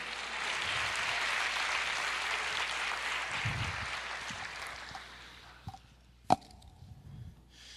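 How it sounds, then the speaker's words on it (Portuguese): A church congregation applauding during a sermon, a dense wash of clapping that holds for about five seconds, then fades out into a few scattered claps. "Aplauda o Senhor."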